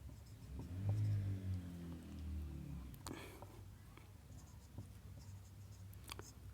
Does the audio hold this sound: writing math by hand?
yes